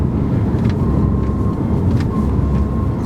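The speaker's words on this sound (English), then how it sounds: "That's me on and off the throttle there." A car engine drones steadily and fairly loudly while driven in sixth gear, easing on and off the throttle, with no sharp rev swings standing out.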